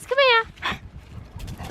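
An excited dog gives a high rising whine or yelp close by, followed by a short bark-like yip and scrabbling, snuffling noises, with a person speaking in the room.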